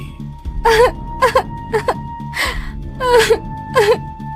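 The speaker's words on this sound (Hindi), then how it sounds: "तभी इन तीनों को रुदाली के रोने की आवाज सुनाई दी।" A woman's wailing, gasping sobs come in repeated rising and falling bursts over a low eerie drone, close and loud, as a horror story sound effect.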